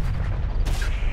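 Heavy booming artillery guns firing in Terminator: Dark Fate Defiance, a loud low rumbling blast with a fresh sharp report about midway through the short burst.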